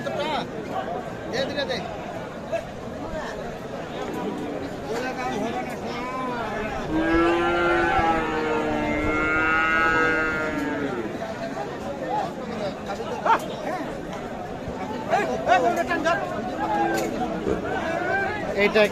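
At a livestock market, a Friesian bull calf lets out one long, loud, drawn-out moo in the middle of constant nearby chatter and crowd babble, with people talking throughout.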